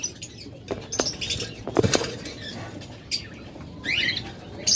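Pet birds in a farm cage flap and shuffle in nervous bursts, giving scattered squawks and chirps as they scramble down to hide, close and fairly clear with no speech.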